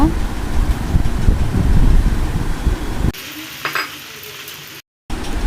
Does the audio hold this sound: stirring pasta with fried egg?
yes